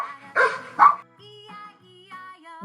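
Two sharp dog barks in a farm-animals Old MacDonald song, close and distinct, followed by soft tonal singing.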